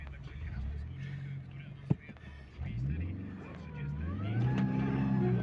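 A VW Lupo car straining to pull a plough out of a meadow, its engine droning and revving up and down in pitch, with a sharp knock partway through and voices talking over it.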